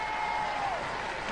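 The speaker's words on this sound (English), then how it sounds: "Give them a round of applause," A Robot Wars studio audience gives the roboteers a brief burst of dense, continuous applause, with a faint tone running beneath the clapping.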